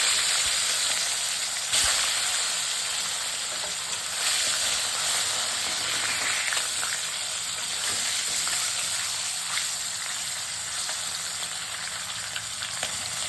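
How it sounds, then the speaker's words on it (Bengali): Bata fish heads frying in very hot salted oil, a loud, continuous close-up sizzle and hiss with a few brief clatters of stirring. "দেখুন তেলটা কসকসে গরম করে নিয়েছি একটু লবণও দিয়ে দিয়েছিলাম যাতে না ছেটায় তো এই বাটা মাছের মুড়েগুলো দিয়ে"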